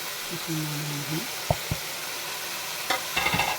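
Spices stirred into liver and tomatoes frying in a pan for a kaleji masala, a steady soft sizzle with a few scraping stirs and clinks of the spoon against the pan, heard close.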